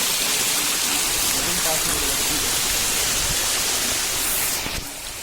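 A river near a waterfall rushes with a close, steady roar of flowing water, a dense, unbroken hiss that holds evenly before easing slightly at the very end.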